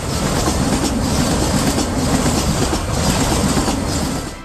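A Vande Bharat sleeper train on a high-speed test run gives a dense, continuous rush of rolling noise with faint rhythmic clatter, loud and close, holding steady before easing off at the end.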